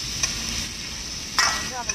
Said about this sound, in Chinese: 就这么炒一下就行。